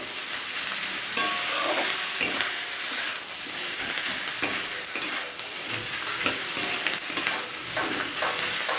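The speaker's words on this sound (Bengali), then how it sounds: "ভালো করে মশলাটা দিয়ে আমি কষে নেবো" Spices sizzle and fry steadily in a pan for an onion-stalk curry, with scraping stir strokes and small clatters of the spoon against the pan throughout.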